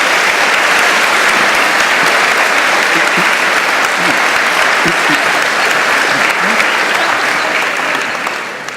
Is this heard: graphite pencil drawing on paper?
no